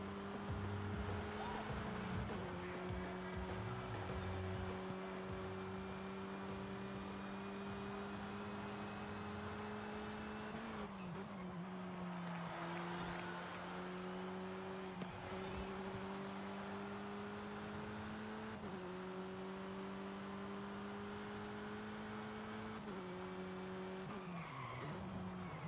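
Race car engine at steady high revs through a Forza Horizon 5 lap, with repeated gear shifts and tire squeal in corners, loud and continuous with no talk.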